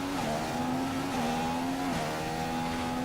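An F1 race car engine in the F1 2015 video game whines steadily at high revs, dipping briefly with gear changes, loud and continuous with no talk over it.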